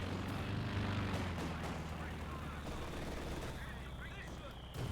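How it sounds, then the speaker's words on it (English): Mortar fire and gunfire from a Company of Heroes 2 match between Wehrmacht and British forces, as a dense, continuous rumble of distant blasts and shots under a background wash. "Mortar fire here from Paul.A.D's mortar emplacement"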